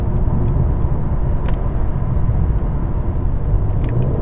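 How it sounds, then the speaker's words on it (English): An AMG Mercedes engine downshifts through several gears while the left paddle is held, giving a loud, steady low rumble throughout with brief rising blips from the exhaust. "if you hold the left paddle down and you don't release it straight away, it'll shift down to the lowest gear you can possibly go in for that speed."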